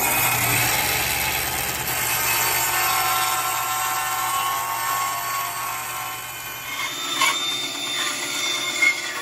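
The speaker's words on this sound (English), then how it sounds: "then we'll cut this out on the bandsaw, get a little bit of a taper in it" Bandsaw cutting a tapered wooden guitar neck blank, a steady loud whirring cut running nearly the whole time, easing slightly toward the end with a couple of brief knocks.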